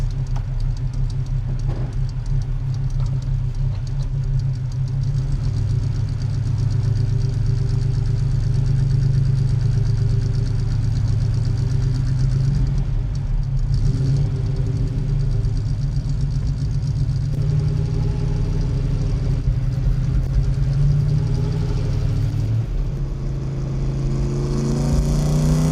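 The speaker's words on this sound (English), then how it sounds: "Alfa Romeo is the classic example of letting a car warm up." A 1971 Alfa Romeo Montreal idles steadily while warming up, a low, continuous engine drone close by that holds throughout and shifts slightly in pitch near the end.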